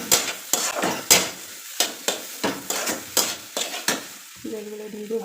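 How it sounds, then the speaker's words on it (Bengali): Potatoes sautéing in a hot pan for a steamed egg chop, with about ten brisk, rhythmic spatula scrapes over a steady sizzle, close and clear, ending in a softer bubbling sound. "যেমন আমি এখন আলুটা কষে নিচ্ছি আর গরম জল দিব"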